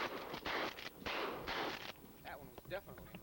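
Shotgun blasts at a goose hunt: several loud, close bursts in quick succession, followed by voices talking in the field.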